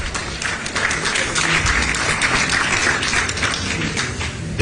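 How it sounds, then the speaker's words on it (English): A crowd applauds steadily at a political gathering after a dignitary's address, dense clapping filling the whole stretch at an even, moderately loud level with faint murmuring underneath. "Another round of applause,"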